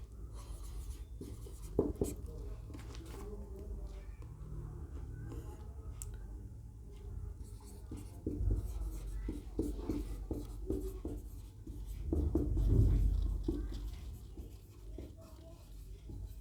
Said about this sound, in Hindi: इसे हम लिख के बताते हैं ताकि बहुत इंपॉर्टेंट क्वेश्चन है